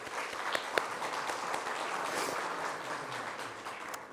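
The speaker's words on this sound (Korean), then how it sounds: "오늘 방문하셨는데 우리 잠깐 자리에서 일어나실 때 박수로 한번 환영하겠습니다" A church congregation claps to welcome a visitor during a Sunday morning service, producing a soft, even patter of applause that sounds somewhat distant and lasts throughout.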